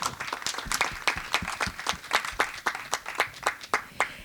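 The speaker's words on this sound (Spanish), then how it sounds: "Un fuerte aplauso para María del Carmen." Steady applause from an audience at a panel discussion on memes and aggression, with distinct, regular claps close by over a softer bed of clapping, lasting several seconds.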